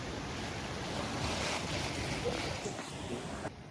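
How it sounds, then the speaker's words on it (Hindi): Mountain waterfall on the trek to Madhyamaheshwar, rushing water as a loud steady broadband roar from start to finish, with wind buffeting the microphone. "तो हमको ये झरना मिल चुका है,"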